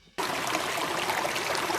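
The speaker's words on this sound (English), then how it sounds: "we rebuilt this old leaking waterfall into this" Water pours down a rebuilt backyard pond waterfall built of stacked rock, starting abruptly as a close, steady rushing splash that continues evenly to the end.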